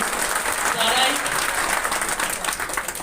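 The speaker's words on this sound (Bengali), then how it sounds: "আমাদের এখানকার পক্ষ থেকে একটা হাততালি চাই" A crowd at a public political gathering in Dhaka claps steadily for about three seconds, a dense wash of hand claps with no voices standing out.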